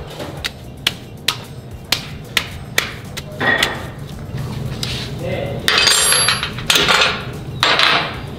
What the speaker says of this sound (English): So we're gonna go ahead and put it on and turn it counterclockwise to loosen it.